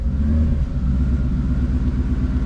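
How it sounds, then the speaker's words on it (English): A Ford Coyote 5.0 engine, being built as an all-motor setup, rumbles loudly and close by inside the car, giving one brief blip of revs before settling into a steady, throaty run. "baby rev and see how she runs"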